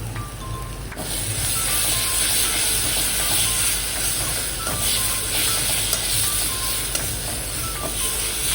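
Ginger-garlic-tomato paste with salt, chili, coriander and cumin powders frying in a pan, giving a steady, loud sizzle with occasional stirring scrapes after a brief quieter start.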